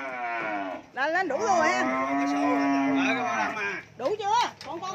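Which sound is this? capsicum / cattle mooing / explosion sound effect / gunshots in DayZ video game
cattle mooing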